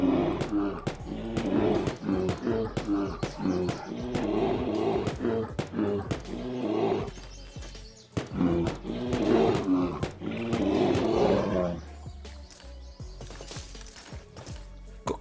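A bear roars repeatedly during a fight in the Minecraft game The Walking Dead 2, with loud, close, growling bellows in several rolling bursts, broken by brief gaps and a few sharp hits.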